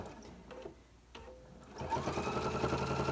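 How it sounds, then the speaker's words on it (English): A sewing machine stitching binding onto a quilt starts with a few soft single stitches and short pauses, then runs into a fast, steady, close mechanical whir for the last second or so. "One more stitch, and then I'm going to sew on the diagonal to that corner"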